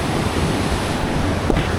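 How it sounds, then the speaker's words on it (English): Steady ocean waves breaking on the surf beach at La Libertad, El Salvador, a continuous broadband wash of surf with some wind noise, loud and close throughout with no talking. "Those are steady waves that don't smash you directly into the rocks if you know what you're doing."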